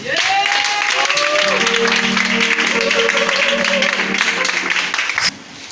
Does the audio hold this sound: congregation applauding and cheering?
yes